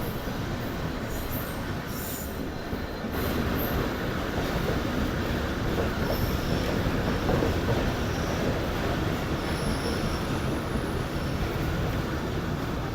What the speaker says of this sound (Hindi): फाइनली 11:30 बजे ट्रेन हमारी अप्रोच बना रही है लांडी जंक्शन रेलवे स्टेशन पर